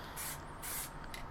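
Spray paint hissing from an aerosol can in bursts, two long sprays and a short one, close and steady against a low background rumble.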